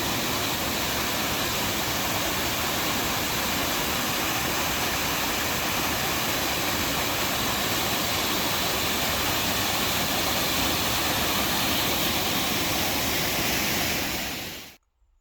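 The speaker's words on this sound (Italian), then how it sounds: "Cascata del fiume Tevere, come immaginavo," The Tiber river waterfall in full spate roars as a loud, dense, unbroken rush of falling water, close by and steady, cutting off abruptly at the end.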